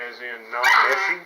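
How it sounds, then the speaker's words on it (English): A puppy barks indoors beside a windowsill planter, one short loud yip that overlaps a person talking. "Please excuse my dog."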